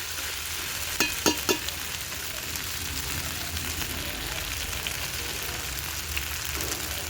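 Pieces of goat head meat fry in a pan as chili powder goes in, giving a steady close sizzle with a few sharp spoon clinks near the start.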